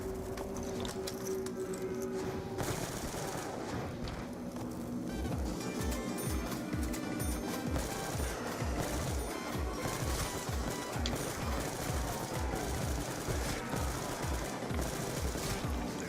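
Rapid gunfire in a zombie shooter game, dense bursts of shots rattling steadily throughout at moderate loudness, with no talk.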